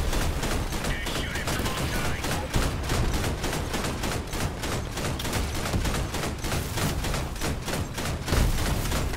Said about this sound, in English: That's the advantage of long range cannon.